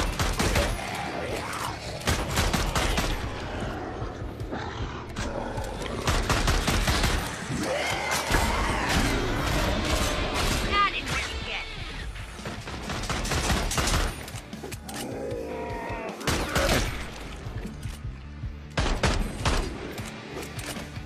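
Sustained gunfire and fusillades from the ZombieLand video game during a boss fight, dense repeated shots and bursts filling the whole stretch at steady loudness, with no talk over it.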